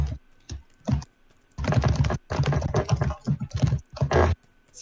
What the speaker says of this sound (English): Like a lot of like typing and table noises.